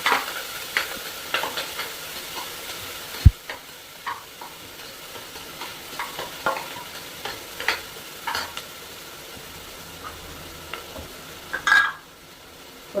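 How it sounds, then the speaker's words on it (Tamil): Onions and curry leaves with cinnamon, cloves and fennel sauté in a pan for veg kuruma, a soft steady sizzle punctuated by scattered scrapes and clinks of stirring, faint and close, with one sharp knock partway through. "கட் பண்ண 2 வெங்காயம், கருவேப்பிலை, அது போட்டு நல்லா கொஞ்சம் வதக்கிக்கலாம்பா."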